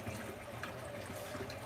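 Warm tap water runs steadily in a continuous, quiet trickle and splash while a makeup brush is rinsed under it, alone without talk.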